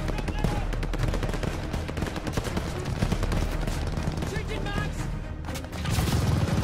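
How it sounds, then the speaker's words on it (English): A tower-mounted machine gun fires in the Call of Duty Vanguard game during Operation Tonga, sustained rapid automatic bursts mixed with other gunfire and battle noise, loud and dense throughout, with voices talking amid the combat. "Keep that tower MG down."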